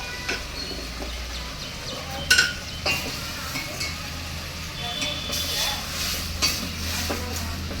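Vegetables sauté in oil with curry leaves and coriander for a vegetable kurma, producing a steady sizzle. A spoon scrapes and clinks against the pan in a few sharp knocks, with low hum beneath.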